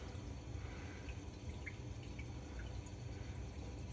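Water splashing and trickling inside an Aqua Medic multi reactor Gen II aquarium reactor, a steady close burbling wash with faint drips, continuous and alone.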